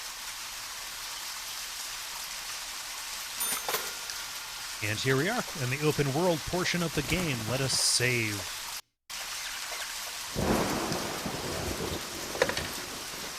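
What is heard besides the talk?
rain and thunder in video game Deadly Premonition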